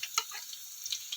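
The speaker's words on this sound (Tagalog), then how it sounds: "Yan mainit na nasutay na ang mga aromatics. Ilunod na ang labong or dabong." Faint, crackly sizzle of bamboo shoots (labong) frying with sautéed aromatics in a pan, scattered light pops and ticks over a soft steady hiss.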